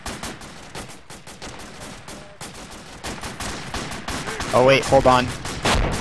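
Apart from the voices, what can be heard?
gunshots in a video game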